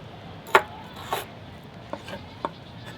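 A few sharp knife chops through kimchi on a board, sparse and uneven, with one louder strike early followed by lighter taps.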